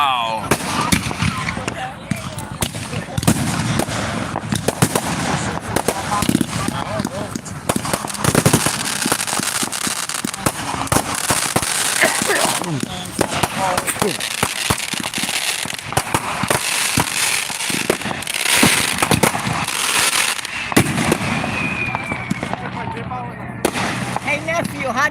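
Fourth of July fireworks explode in rapid, dense bursts of booms and crackling pops, loud and close, with people talking and reacting over the barrage throughout.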